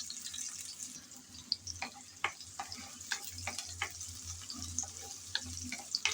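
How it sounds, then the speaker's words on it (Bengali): Chopped onion dropped into hot oil in a pan fries with a soft, steady crackle and scattered sharper pops, faint and close, with no voices. "এখন গরম তেলে দিয়ে দিলাম কিছুটা পেঁয়াজ কুচি।"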